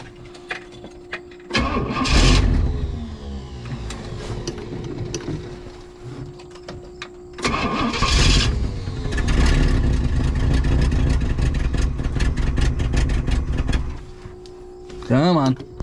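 A 1967 Pontiac Tempest station wagon engine cranks and catches twice, each start followed by a loud, rough revving run lasting several seconds, with a short whine near the end and people talking quietly in between.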